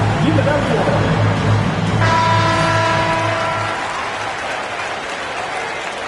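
NBA 2K25 arena crowd applauding and cheering, a broad, roaring wash that holds steady, with a blaring horn-like tone partway through, before the noise eases slightly; an announcer's voice runs over the start.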